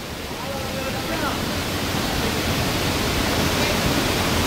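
Karumparai waterfall at Keeripparai in Kanniyakumari district, a steady broadband rush of falling water that swells slightly and holds continuous and fairly loud throughout, with no clear voices.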